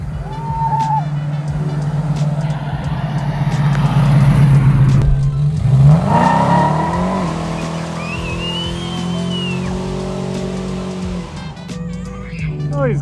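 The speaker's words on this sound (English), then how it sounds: "these cars getting in the way" Cars at a street car show in Crediton rev and drive past, a loud steady engine drone with a rising rev and tyre squeal midway, crowd chatter underneath.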